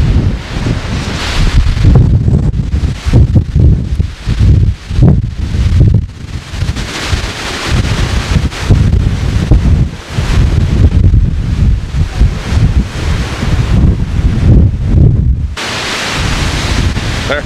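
Strong gusty wind in Newfoundland buffets the microphone with loud, roaring broadband rushes that swell and drop in irregular bursts, nearly continuous with brief lulls.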